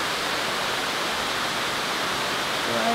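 A flowing waterfall roars as a loud, steady broadband rush of water that holds constant throughout, with no voices.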